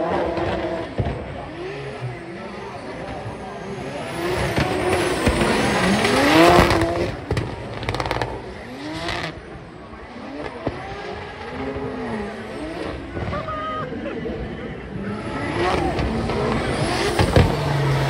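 Race car at a motorsport event in Chicago spinning out, engine revving and tires squealing across a sustained, loud stretch, with Finnish commentary talking over it throughout.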